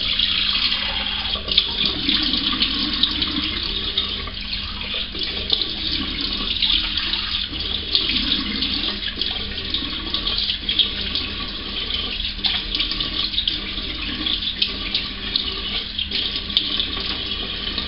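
Cold tap water runs steadily into a sink during a shave rinse, a continuous close splashing hiss that holds even and unbroken throughout, with no talking.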